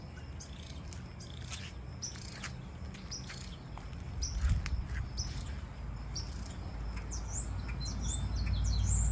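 Small birds chirp and tweet repeatedly in a front garden, bright short calls at moderate distance over a steady outdoor background hum, with no talking.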